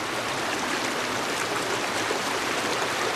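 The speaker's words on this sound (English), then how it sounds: "A good setup where you can get a good stream of water flowing through your charcoal filter up into the filter itself." Water streams steadily through a charcoal filter setup, a dense, even hiss of rushing flow like a small stream, loud and close, continuous throughout with no voices.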